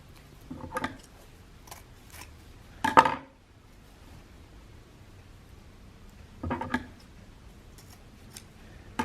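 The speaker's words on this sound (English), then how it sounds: "a lot of people will cut their ribbon kind of at an angle like this" Scissors cutting ribbon for a Christmas bow: a few quiet, close snips spaced apart, one sharper crisp cut in the middle and another pair later, with near silence between them.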